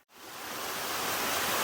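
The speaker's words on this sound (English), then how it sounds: "Waterfalls on top of waterfalls on top of waterfalls." Cascading waterfalls at Coaticook Gorge roar in a steady, dense rush of white water that swells up after a brief pause and stays loud and continuous, with no voices.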